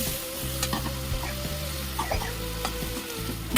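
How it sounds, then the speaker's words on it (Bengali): Okra frying in a pan with cumin powder and salt, a steady close sizzle under repeated scraping and stirring strokes, a brief louder burst at the very end; no talking. "আর পরিমাণ মতো লবণ দিয়ে একটু নাড়াচাড়া করে জল দিয়ে দেবো"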